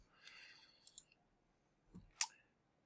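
Sparse mouse clicks sound close and quiet, a few isolated taps separated by silence, with one sharper click near the end.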